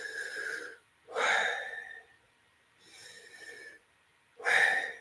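Slow, deep breaths drawn in and let out, four long airy swells separated by short pauses, close and alone with no talking.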